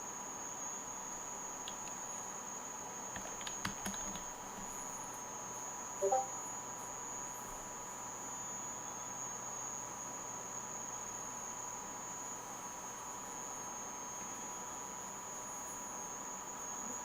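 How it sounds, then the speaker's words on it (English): Steady high-pitched cicada buzz drones continuously in the background over a low electrical hum, with a few faint clicks and a brief soft knock. "Oh, the noise. Oh, that's a cicada."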